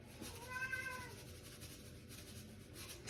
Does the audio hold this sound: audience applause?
no